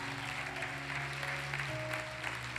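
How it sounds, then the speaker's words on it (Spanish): Faint congregational clapping at a church women's training gathering, soft and continuous beneath sustained keyboard-like tones. "Aplaude la gloria de Dios"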